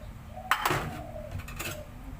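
Clinking of utensils against a bowl while Thai rice noodle salad with tuna, vegetables and shallots is tossed, a few sharp clatters in the first second and lighter scraping knocks after, heard close.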